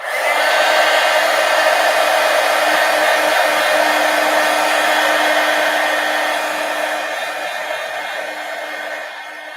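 Hair dryer blowing on glued art supply cards: a loud, steady continuous whir that holds nearly unchanged and eases slightly softer toward the end.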